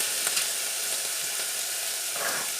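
Leeks with crème fraîche cooking in a pan give off a steady, close sizzle with soft bubbling and occasional faint stirring, with no voices over it.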